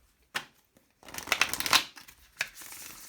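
Oracle cards being handled and shuffled: a few soft riffling bursts, then a longer, louder flurry of card flicks and slides in the middle, close and alone with no talk.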